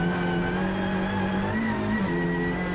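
A Britcar Trophy race car at Oulton Park, running down through Cascades, gives a steady, loud engine drone that rises and falls slightly in pitch over nearly three seconds with no talk.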